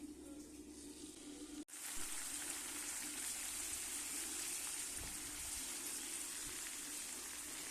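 A secret spice blend drops into half a cup of hot oil in a heated pan and bursts into a loud, steady hiss after a brief pause, the sizzle continuing evenly to the end.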